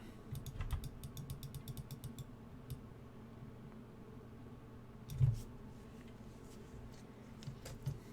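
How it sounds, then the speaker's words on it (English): Computer keyboard typing in a live-stream setup, a steady run of soft, close clicks and taps with a slightly louder clack around the middle and no talking. "Keyboard audio, but no game audio."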